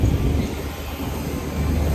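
Steady, loud engine roar of an airplane, a continuous broadband rumble with no pauses and no voices.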